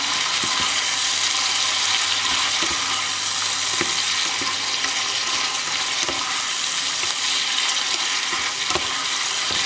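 Chicken liver stir-fried with rosemary in a pan, a steady dense hiss of sizzling oil throughout with occasional faint scrapes of stirring, close and continuous.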